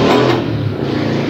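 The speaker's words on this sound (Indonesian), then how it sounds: "barusan suara motor lagi bro" A motorcycle passes outside, a short loud engine roar that swells briefly and then settles into a lower rumble, with no voices.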